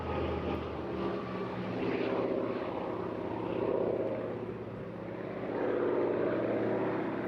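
Hawker Fury propeller fighter with a Bristol Centaurus Mark 18 engine flying at an airshow, a steady droning engine roar that swells and fades slightly as it passes at moderate distance.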